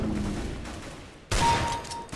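Gunfire from a CS:GO match with a Desert Eagle in play: a soft, muffled stretch of game sound gives way to a sudden loud burst of shots and ringing that holds steady to the end, with no talking.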